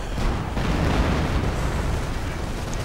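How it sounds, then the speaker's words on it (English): Self-propelled artillery shells explode in a WWII strategy video game, a continuous dense roar of rumbling blasts and bursts filling the whole stretch, loud and heavy. "And more artillery from the self-propelled artillery battery of the 2nd SS."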